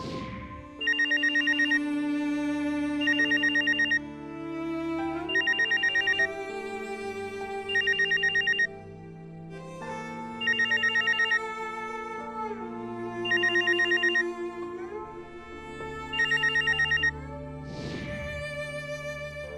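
A telephone rings in repeated double bursts with short pauses between them, loud and clear over soft background music.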